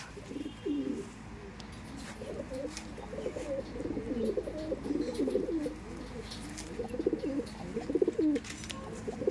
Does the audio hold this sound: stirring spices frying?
no